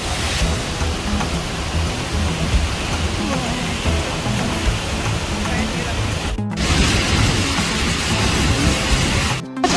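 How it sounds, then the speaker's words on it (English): La Fortuna waterfall in Costa Rica rushes with a loud, steady broadband roar of falling water, heard up close at the bottom with brief breaks. "That waterfall is massive."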